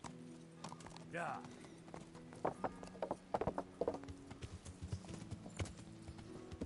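Horse hooves clip-clop along a town road in the medieval video game Kingdom Come: Deliverance, a few irregular hoofbeats mixed with game ambience, mechanical clicks and a brief whinny, while people talk over it.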